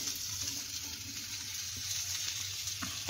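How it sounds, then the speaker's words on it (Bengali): Pointed gourd and potato pieces fry in a reddish spice paste with prawns, giving a continuous close sizzle with faint stirring scrapes and no speech. "এবার পটল আলুটা দিয়ে দিচ্ছে।"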